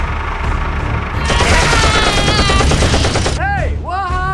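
Video game gunfire rattles in a loud, dense burst of automatic shots that swells in the middle, with voice-like tonal sweeps near the end; no words are spoken.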